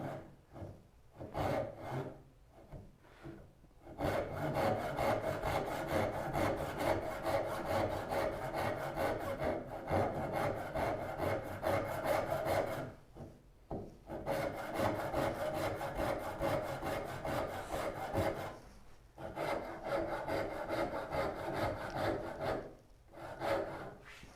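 A hand saw rips along the grain of wood held in a Moxon vise, producing steady, rhythmic rasping strokes close up, in long runs broken by short pauses.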